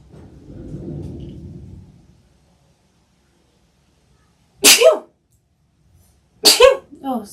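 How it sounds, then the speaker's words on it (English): Two sharp sneezes ring out about two seconds apart, loud and close, following a stretch of low murmuring noise and then silence. "I'm gonna need to sneeze."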